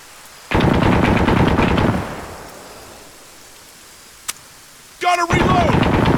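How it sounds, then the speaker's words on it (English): Heavy machine gun fire in the military game Arma 3: a loud sustained burst of rapid shots that echoes and fades, a single crack, then another loud burst starting, with a voice briefly heard amid the firing. "Heavy machine gun somewhere up there, where the fire is."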